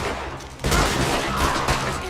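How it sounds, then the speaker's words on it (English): Sustained gunfire from Red Dead Redemption 2 Online, a dense and continuous stream of shots that swells louder after the first half second and stays busy throughout. "So much shooting at us."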